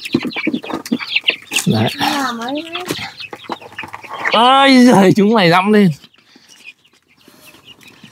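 Chickens being fed banana on a Vietnamese farmyard cluck and squawk in loud bursts, mixed with someone talking nearby throughout.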